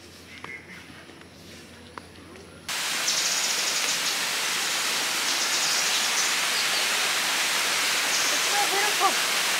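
Rushing river water heard outdoors, a loud, steady broadband roar that starts abruptly and continues without a break.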